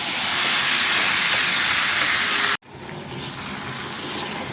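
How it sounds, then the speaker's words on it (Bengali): Chicken pieces fry in a hot pan, giving a loud, dense, continuous hiss that cuts off abruptly partway through, then resumes as a slightly softer, steady sizzle. "চিকেনটাকে দিয়ে ভালো মতন করে ভেজে নেবো আগে"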